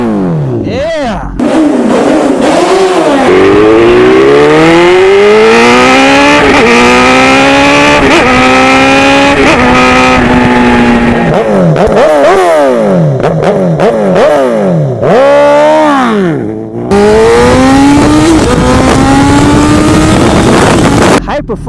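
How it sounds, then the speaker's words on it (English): Honda CBR1000RR Fireblade liter-bike exhaust revs loudly through repeated rising sweeps, close and powerful, dipping briefly between pulls before climbing again, with no talk over it. "Listen to this exhaust, much improved."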